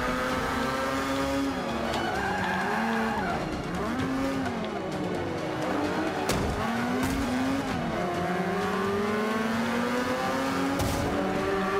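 Race cars in Forza Motorsport 5 roar continuously with swooping engine pitch changes as gears shift, accompanied by tire squeal and skidding through corners, loud and close throughout.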